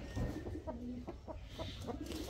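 Chickens cluck in a string of short, quiet calls at close range, several soft clucks in quick succession over a couple of seconds, with no voices.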